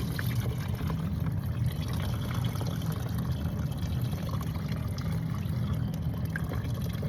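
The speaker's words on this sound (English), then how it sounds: "I think in this case I'm going to try dumping the water into here" Water poured steadily from a container into a collapsible bucket, with a continuous, even splashing rush that lasts several seconds, close by and with no talking.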